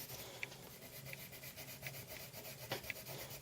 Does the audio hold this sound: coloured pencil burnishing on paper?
yes